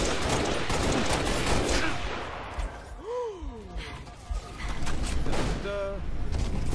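Gunfire in Halo Reach multiplayer: dense rapid shots and explosive bursts crowd the mix, with a player talking over the din and some whooshing game effects.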